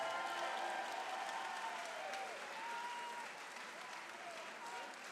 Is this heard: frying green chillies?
no